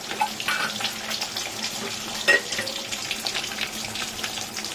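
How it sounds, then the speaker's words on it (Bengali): Fish frying in a pan of oil for a tomato, green chilli and ginger curry, a steady soft crackling sizzle with one brief louder pop, moderately close and with no talking. "দেখো মাছটা ভাজা হোক"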